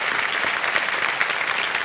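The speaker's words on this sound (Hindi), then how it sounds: "एक बार फिर तालियों के साथ हम आपका स्वागत करते हैं" Studio audience on a televised quiz show applauds to welcome a contestant, a steady, dense wash of clapping that holds at full level without a break throughout.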